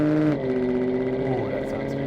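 A BMW E90 M3 engine idles close by, a steady low harmonic drone that shifts pitch slightly as it settles, running alone without speech.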